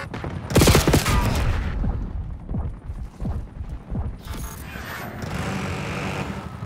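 Heavy gunfire during a Black Ops 6 beta Kill Order match on the SCUD map: loud, close, rapid automatic bursts with deep booms, continuing through a quieter rumbling tail.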